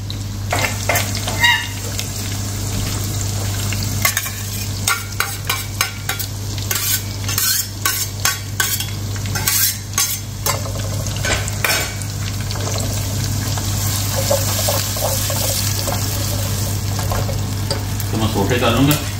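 Hot oil sizzles steadily in a pan for Pakistani-style aloo gosht, with repeated sharp scraping of a spoon stirring through it, close and continuous with no talk.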